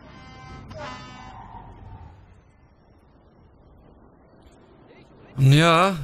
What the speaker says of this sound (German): hör auf zu hupen